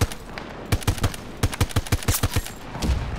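Rapid bursts of gunfire from a weapon in the shooter game Battlefield 2042, sharp repeated cracks in quick clusters with short pauses between, loud and close with no talking.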